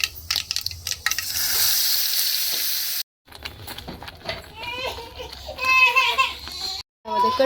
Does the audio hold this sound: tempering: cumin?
yes